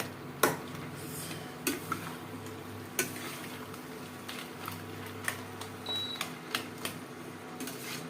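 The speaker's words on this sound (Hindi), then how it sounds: "और इसे हम हल्का से मिक्स कर दे रहे हैं इस तरह चलाते हुए सब्जी को थोड़ा सा इस तरह मिक्स कर दीजिए" A spoon stirs a cooked no-onion, no-garlic vegetable curry in a pan. The stirring is soft and close, with faint scraping and occasional light clinks over a low sizzle, and nobody speaks.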